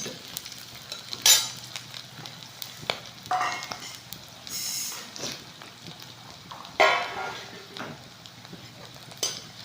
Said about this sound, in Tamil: பூண்டு நல்லா சவுக்காக வறுத்துக்கணும்